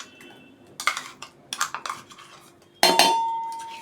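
Metal utensils clink and clatter against a pot as ground masoor dal is transferred in several quick bursts, ending with a louder ringing clang that fades out.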